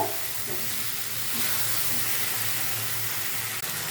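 Spice masala for egg curry fries in hot oil in a pan, giving a steady, broad sizzling hiss throughout with no talking.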